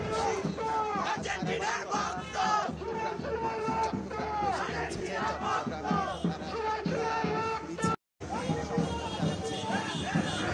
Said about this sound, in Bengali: শোভাযাত্রা জুড়ে শোনা যায় সমর্থকদের উচ্ছ্বাস আর স্লোগান।